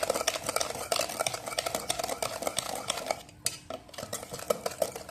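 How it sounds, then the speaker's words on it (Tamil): Sugar is stirred into an egg mixture for muttai mittai, a spoon scraping and clinking rhythmically against a metal pan, close and continuous with a brief pause midway. "200 கிராம் வந்து சர்க்கரை இதில் போட்டு நல்லா மிக்ஸ் பண்ணிக்கலாம். நல்லா கிண்டுங்க."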